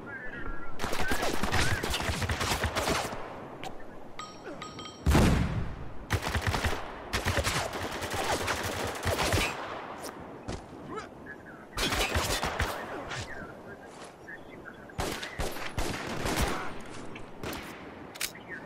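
Heavy gunfire in a Spec Ops: The Line multiplayer match, with repeated loud bursts of automatic fire and single shots that come in clusters separated by short lulls, close and dominant throughout.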